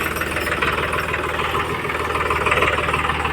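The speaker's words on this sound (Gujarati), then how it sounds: "મુકાભાઈ આપણે ટ્રેક્ટર બહાર કાઢી રહ્યા છીએ" A tractor engine runs steadily at idle, a low rhythmic chugging throb that continues throughout, fairly close.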